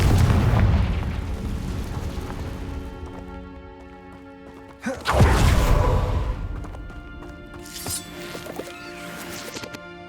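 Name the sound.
Confringo fire spell explosion from the video game Hogwarts Legacy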